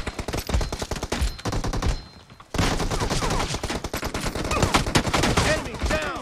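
Gunfire from PUBG Mobile deathmatch play: loud, dense automatic bursts rattle almost without pause. There is a short lull around two seconds, then rapid firing resumes and continues to the end.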